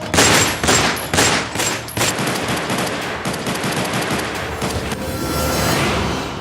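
Rapid bursts of gunfire in a dramatized gang-war shooting scene, loud volleys and fusillades at the start giving way to continuous rattling shots and booms.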